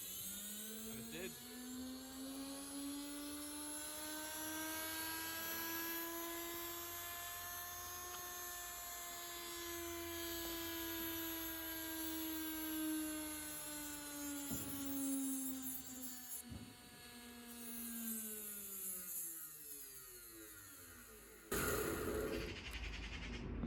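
Motor and worn bearings of an Indesit WIDXL12 washing machine running on a test: a steady droning whine with rumbling undertone climbs, holds for a long stretch, then sags and cuts off with a clunk near the end.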